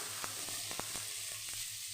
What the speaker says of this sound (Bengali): পেঁয়াজটাও আমি বেশ লাল লাল করে ভেজে নেব